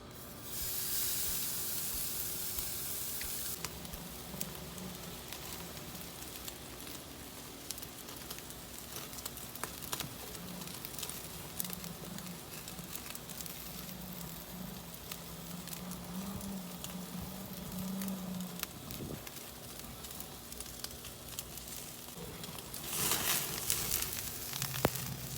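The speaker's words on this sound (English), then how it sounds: "It's time to sear the steak." Steak sears on an Aspire by Hestan gas grill, a sustained close hiss and crackling sizzle with popping spatters throughout and a louder surge of spray near the start and again at the end.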